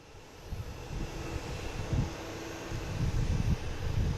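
An airliner taxiing toward the gate, its engines producing a steady low rumble with some wind buffeting, growing slightly louder as it approaches, with no talk.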